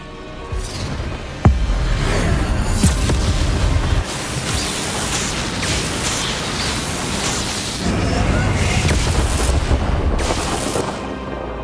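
A Bombarda spell explosion in Hogwarts Legacy, a sudden heavy boom followed by a long roaring rumble and crackling magical combat noise, loud and close.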